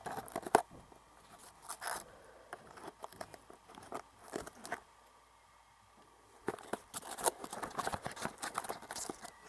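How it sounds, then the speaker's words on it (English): Scissors snip in short, scattered bursts of crisp cuts and crinkles while plastic toy packaging for a Tomy Plarail Thomas train set is cut open, the sounds close and fairly quiet with brief pauses between them. "Had to use the scissors again."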